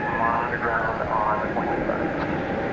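Steady jet rumble from an Airbus A319 at DFW Airport at night, a constant broadband roar with no breaks through the short stretch.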